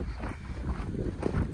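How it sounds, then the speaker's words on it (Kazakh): Wind blows outdoors in a village on a warm, sunny February day, a steady low rumble buffeting the microphone for the whole moment with no talk over it. "Бірақ жел."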